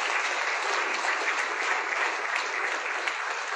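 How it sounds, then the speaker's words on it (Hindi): Loud, continuous applause from an audience at a business offers meeting, a dense even wash of many hands clapping with no talk over it. "जोरदार तालियां।"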